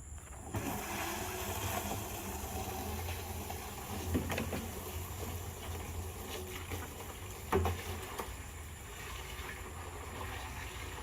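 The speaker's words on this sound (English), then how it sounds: "now we will start our filling of our 55-gallon drum" Water pours steadily into a 55-gallon food-grade plastic barrel set on bricks, a continuous broadband rushing hiss with a few brief knocks, close and unbroken, no talking.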